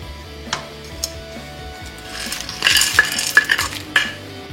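Raisins and cashews are added to kesari in a pan with the heat off, a spoon clinking and scraping against the metal in a burst of close, busy stirring, with a few isolated taps before and after.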